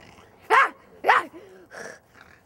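A dog growls and gives short barks on command while being posed for a camera, a few close, separate bursts with a low rumble between them.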